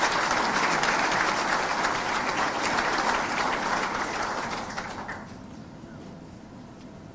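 Audience applause at a Chief Minister's cardiology conference and award ceremony, a dense sustained clapping from a large crowd that fades somewhat toward the end.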